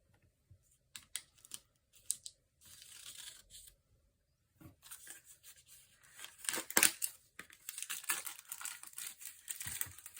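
A sticker haul package being cut open with scissors and unwrapped: intermittent snips, crinkling plastic and tearing paper in irregular bursts, close and fairly quiet, with pauses between.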